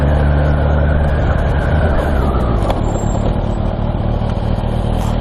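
Kawasaki Ninja H2 motorcycle being ridden, a loud continuous engine roar mixed with wind rumble from close up, with a slight drop in engine pitch partway through.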